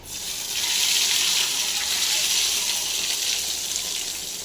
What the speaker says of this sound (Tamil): இப்போ தாளிச்சு எடுத்து அப்படியே அதில் ஊற்றிடலாம்